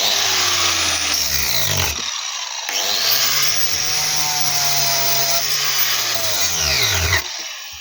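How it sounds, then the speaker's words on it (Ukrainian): An angle grinder whines steadily cutting off a screw cap, its pitch dipping and rising as it cuts, with brief pauses in between. "Болгарка."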